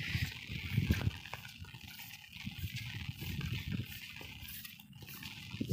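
Water rushes and gurgles through an overflowing drain beside a flooded village road, an uneven churning flow with low rumbling surges, close and moderately loud, with no talk.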